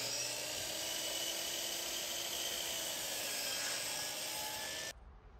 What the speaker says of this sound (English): Here I'm just drilling the holes to mount the leveling hardware